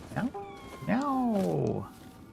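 A cat meows in the video game Nioh 2, two drawn-out, wavering cries heard close over a low background hum.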